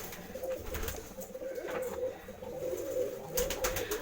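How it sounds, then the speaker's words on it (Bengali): A Fulshira pigeon coos in a steady, throaty run of low, rolling notes, close and continuous, with no voices. "প্রথমে যে কবুতর দেখা দেবো সেটা হচ্ছে ফুলশিরা"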